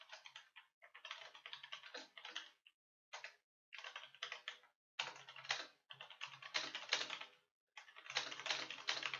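Someone types a sentence on a computer keyboard in quick, close bursts of key clicks, broken by short pauses, with no talk over it.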